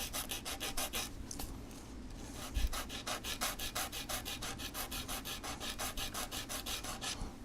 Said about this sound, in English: we're just going to sand off that little burr